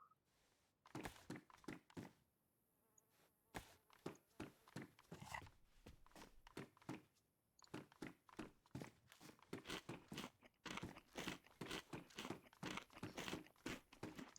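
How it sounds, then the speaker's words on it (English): Crunchy fish being eaten by a character in the video game DayZ, a long run of loud, close biting and chewing crunches in quick rhythmic bursts, with a brief pause partway through. "These are some crunchy ass fish."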